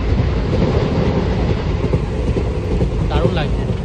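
A train running toward North Bengal, heard from inside the carriage: a loud steady rumble with rhythmic wheel clatter, and faint voices briefly near the end.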